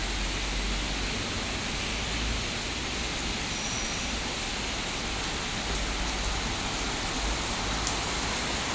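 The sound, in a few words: heavy rain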